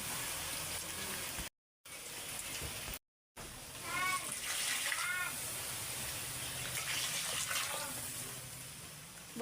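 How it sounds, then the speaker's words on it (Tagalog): Water pours into a pot while bihon rice noodles cook, a soft steady gushing and splashing heard beneath a person talking nearby. "But nga na itong tubig guys."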